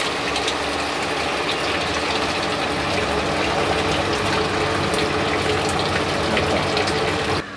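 A power flushing pump pushes SM2 non-acid cleaner through a domestic boiler and heating system, giving a continuous loud whooshing gush of circulating water over a steady mechanical hum.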